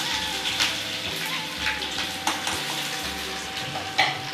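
Ginger-garlic paste hits hot tempering oil with cumin and mustard seeds, giving a loud, steady close sizzle with occasional stirring clatter.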